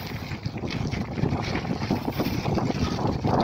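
Strong cold wind roars steadily against the microphone outdoors in Germany, a continuous rushing buffet with no speech.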